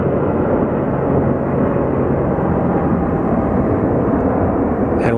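Steady, loud, broad roar of an airplane at Phoenix Sky Harbor Airport, continuous and unbroken for the full span, with no talk.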